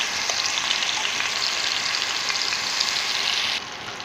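Onion paste and garam masala paste fry and get stirred in a pan for a tangra fish dish, a continuous close sizzle that eases slightly in the last moments, with no voices.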